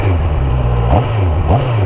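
A QJmotor Race 800 motorcycle engine idles close by and is blipped twice on a cable throttle, each quick rev rising sharply and settling back to a steady rumble.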